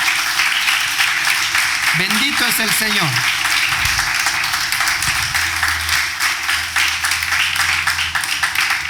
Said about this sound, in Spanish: Dele palmas al Señor Dios Todopoderoso.